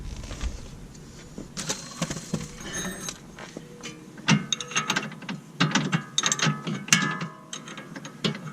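Nuts being tightened on a lower control arm of a BMW E90 xi, mechanical ratcheting and metallic clicks coming in irregular bursts up close, with no talk.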